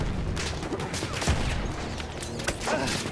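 Gunfire in Battlefield 1 in a noisy battle, scattered sharp shots and cracks over a dense rumbling din, no clear voice on top.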